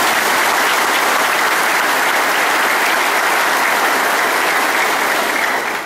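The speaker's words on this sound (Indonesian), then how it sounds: "Tepuk tangan dong." Soldiers and civil staff of the Indonesian armed forces applauding at a commander's briefing, a loud, dense, steady burst of clapping from a large indoor crowd that holds without a break throughout.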